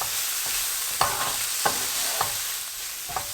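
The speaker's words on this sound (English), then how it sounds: "I'm going to give this a stir." Okra, onions and tomatoes fry with turmeric, coriander-cumin powder and salt while being stirred, making a continuous sizzle broken by four distinct scraping strokes of the spoon against the pan.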